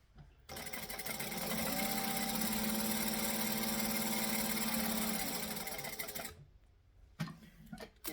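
Sewing machine stitching the corner of a travel tote, a steady, loud, continuous mechanical whir running for several seconds before stopping, with a few light clicks after.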